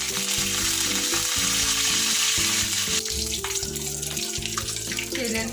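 Curry leaves hit hot oil with a steady, loud, continuous sizzle and crackle, made while cooking Mumbai-style vada pav at home; faint utensil clinks sit underneath, and no one talks.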